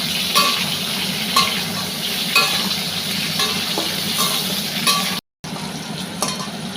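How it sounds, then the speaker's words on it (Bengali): Potatoes fry with a steady sizzle in a pan while a utensil stirs them, scraping and clinking in a regular rhythm, with a brief dropout near the end. "এবার আলুগুলো দিয়ে দিলাম, এবার এটাকেও ভালো করে ভেজে নেব।"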